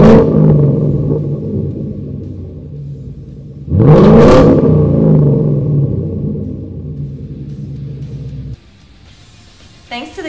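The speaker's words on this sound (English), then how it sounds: "now it has that aggressive tone that sounds like an American muscle car" A Ford Mustang GT with an aftermarket Gibson exhaust idles with a deep, throaty burble, then barks into one sharp rev before settling back and cutting off.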